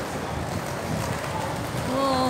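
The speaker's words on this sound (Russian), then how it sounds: "Ветер." Steady wind roars and buffets against the microphone on a shopping street in Vienna as rain picks up, a constant broad rush with a faint tonal whine creeping in near the end.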